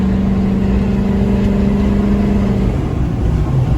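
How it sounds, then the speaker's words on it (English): Duramax diesel truck engine with a 5-inch straight pipe, running loud and steady at close range with a deep rumble and slight rise in revs, no talk. "once you step on the throttle, does it sound like this?"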